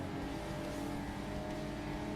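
High-revving rotary engine of a Mazda RX-8-style race car in Forza Motorsport, a steady loud harmonic drone held near a high redline throughout, with no talk over it.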